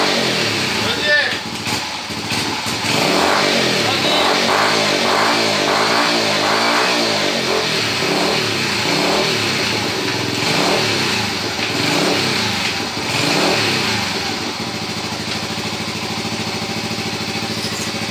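A Yamaha SR 125 motorcycle engine runs close by, rising and falling as the throttle is revved through gear changes, steady and loud, with someone speaking over it.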